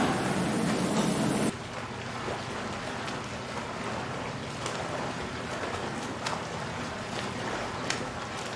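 A stage sound effect of a boat on ocean waves gives a soft, continuous wash of water and wind. A louder broadband rush in the first second and a half then drops to a quieter, even surge with faint creaks.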